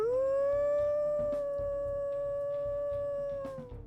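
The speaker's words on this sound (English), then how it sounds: "we'll listen to his howls here" A single long, sustained wolf howl in the video game WolfQuest rises briefly and holds steady at one pitch before fading, loud and close, with faint game sounds underneath.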